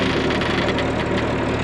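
An International Harvester 1086 tractor's diesel engine drones steadily and loudly up close while it drags a load, with a dense continuous rumble and no pauses.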